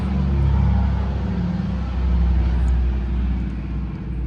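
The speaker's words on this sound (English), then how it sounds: "An RAF Dakota, 1940s." A 1940s RAF Dakota flies overhead, its piston engines a low, steady droning rumble that swells and eases slightly while it passes, loud and continuous, with no speech.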